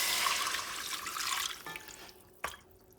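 Water poured into a cooking pot for Puerto Rican arroz con pollo, a steady splashing stream that stops, followed by a few brief clinks and a sharp knock.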